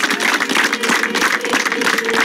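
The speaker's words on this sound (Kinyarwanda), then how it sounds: "Dukomere Imana amashyi kubw'ijambo twumvise." A church congregation applauds for God, a dense, steady wash of clapping that holds at an even level throughout without pausing.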